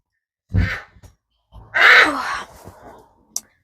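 A gyr-saker hybrid falcon gives a few harsh, scratchy calls close by, short separated bursts with a longer rasping cry in the middle, against near silence.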